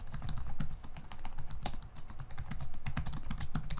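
Fast, steady typing on a computer keyboard, dense clicking keystrokes filling the whole stretch, close and fairly loud with no voice.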